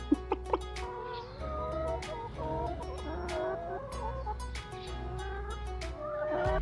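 Several chickens cluck and chatter continuously, close by, with a few sharp calls near the start and a low hum underneath.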